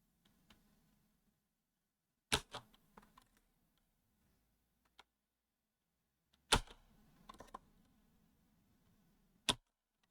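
Typing on a computer keyboard for a chorded typing app comes as a few sharp close clicks and short bursts of keystrokes separated by near silence.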